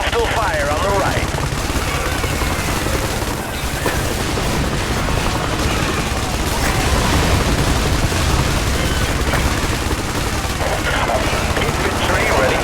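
Gunfire and explosions fill a video game battle at a harbor, with dense, continuous shots and booms throughout, mixed under radio-style voices and battlefield chatter.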